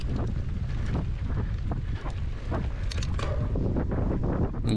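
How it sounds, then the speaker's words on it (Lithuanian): Strong headwind buffets the microphone at the finish straight of a mountain bike marathon in Druskininkai, a loud, steady low roar of gusting wind noise throughout with no talk. "prieš tai nebuvo tokio stipraus priešinio vėjo, dabar yra"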